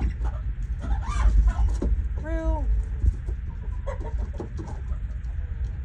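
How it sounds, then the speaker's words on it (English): Roosters and chickens cluck with a clear rising crow in the middle, heard over a rumbling, windy background and some low voices. "Rue's challenging the roosters."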